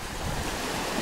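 Sea waves wash on a shore during pink salmon fishing, a continuous moderate rush of surf mixed with wind noise.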